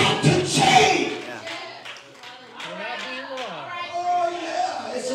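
Church congregation clapping hands together, a dense burst of applause at the start that fades under a preacher's raised voice and background music.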